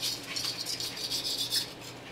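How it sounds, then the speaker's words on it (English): Pumpkin pie filling being stirred, a quick rhythmic scraping and clinking of a spoon against a bowl, close and fairly quiet. "You have to keep stirring till it's all one color"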